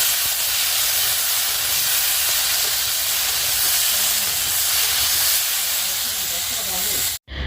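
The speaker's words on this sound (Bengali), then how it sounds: "এই কড়াইয়ের মধ্যেই বসে দিলাম আলু ভাজাটা" Steady loud hiss of potatoes frying in a wok, a continuous sizzle running throughout before cutting off abruptly near the end.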